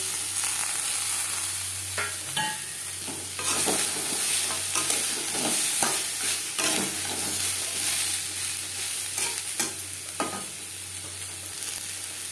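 Tomato and carrot stir-fried with garlic and onion in a pan, continuous sizzling with repeated scraping and stirring strokes, close and steady throughout, no talk.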